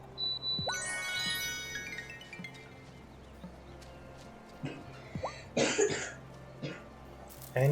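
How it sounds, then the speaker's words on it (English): Game character in Wylde Flowers coughs in a few short, sharp bursts, with chimes and faint background game music around them. "Annie, does the cough ever make you feel better?"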